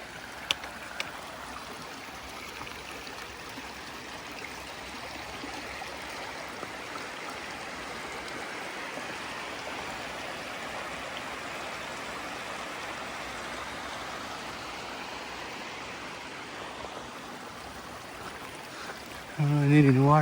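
A river along a High Sierra hiking trail, heard as a steady, fairly soft rushing flow of water that continues evenly for about twenty seconds, with a brief louder sound at the very end.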